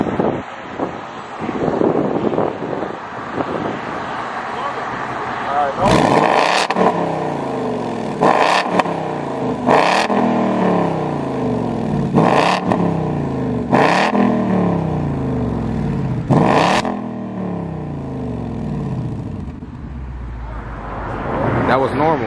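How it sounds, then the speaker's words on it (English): A 2019 Ford Mustang GT V8 fitted with an X-pipe exhaust, in normal mode, is revved outdoors in a series of sharp, loud blips, about seven bursts rising and falling over a rumbling idle, with wind buffeting the microphone. "So I guess we're doing some revs now."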